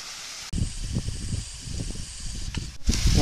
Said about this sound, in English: Sure is a nice waterfall.